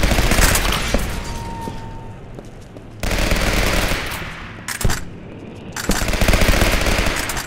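Rapid automatic gunfire from the shotgun in the video game Legendary, played on Hard during a griffon fight, comes in loud dense bursts separated by short pauses.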